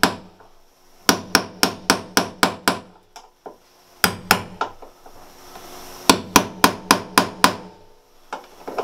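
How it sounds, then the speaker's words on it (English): A steel punch is hammered against the flared sheet-metal edge of a Mercedes Sprinter van door panel, giving close, loud metallic strikes in quick bursts of about six to seven blows with short pauses between groups. "I'm going to take that same punch and hammer it back into position"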